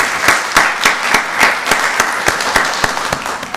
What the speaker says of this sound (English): Let's give Director Kelly a round of applause.